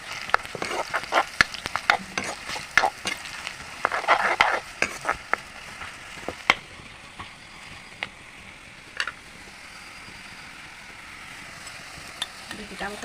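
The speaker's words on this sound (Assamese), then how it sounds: "পিঁয়াজটো অলপ ৰঙা হ'ব দিছোঁ।" Onions sizzle softly in a pan for an Assamese jackfruit curry, with frequent sharp scrapes and clacks of a spoon stirring against the metal, busiest at first and then thinning to a quiet, steady fry.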